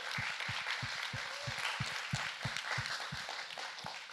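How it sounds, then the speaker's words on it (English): Audience applause at a digital wellbeing conference, a soft continuous patter of clapping with a steady, evenly spaced low thumping running beneath it. "Give them a round of applause, please."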